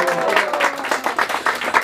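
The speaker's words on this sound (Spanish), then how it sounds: "Y ese aplauso bien fuerte." Applause from an audience at a youth mariachi performance for Father's Day, brisk clapping in rhythmic waves, fairly close and loud, with voices mixed in.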